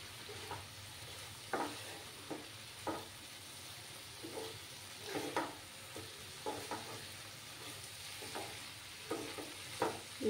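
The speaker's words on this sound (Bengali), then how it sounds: "এবার আমি মাছগুলো দিয়ে দিলাম, দিয়ে মাছগুলোর সঙ্গে ভালো করে কষিয়ে নেব।" Small fish being stir-fried in masala, a low steady sizzle broken by soft periodic stirring scrapes, faint and close, with no voices.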